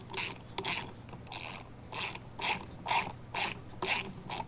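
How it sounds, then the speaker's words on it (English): A hand ratchet clicks in steady repeated strokes while a spark plug is tightened on a Harley Davidson Sportster, close and distinct with no talking. "I take my ratchet and just"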